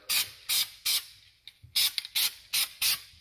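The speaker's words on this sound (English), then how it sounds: "You cannot use regular black spray. It has to be a high heat spray." Short bursts of black high-heat spray paint hissing from an aerosol can, about eight quick sprays in a steady rhythm with brief pauses between.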